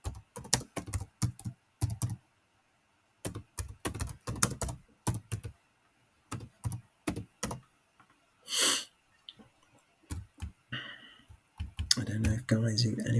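Typing on a computer keyboard, with quick runs of clicking keystrokes in irregular bursts separated by pauses, close and fairly quiet, and a brief sniff partway through.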